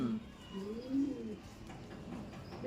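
Racing pigeons coo close by in soft, throaty rolling calls, with a louder coo near the middle over light background noise.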